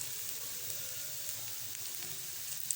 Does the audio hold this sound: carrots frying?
yes